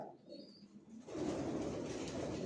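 Racing pigeon squabs murmur softly in a loft, then a louder, fuller rush of cooing and rustling takes over after a second and holds steady.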